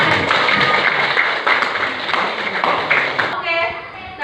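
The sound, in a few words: class applause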